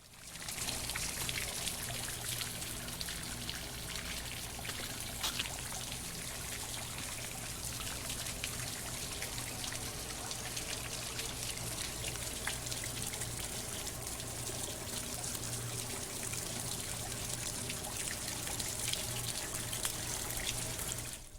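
Water flowing in a public art fountain on a city street, a steady close rush and splash that runs continuously throughout with no talking.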